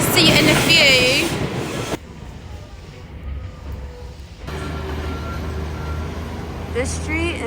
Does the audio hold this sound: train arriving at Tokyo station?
yes